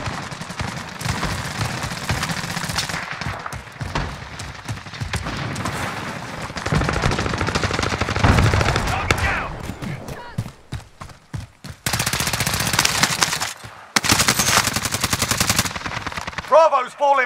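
Machine gun fire in Call of Duty Modern Warfare Warzone payload mode on PC comes in loud, dense bursts and long sustained rattles with heavy booms, broken by brief gaps, while game voices call out under the shooting.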